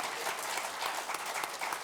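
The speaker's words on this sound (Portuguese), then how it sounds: "vamos dar uma salva de palmas aqui para a CLT" An audience claps together at a seminar marking 80 years of Brazil's CLT labour law, a dense, steady patter of many hands heard up close and alone for under two seconds.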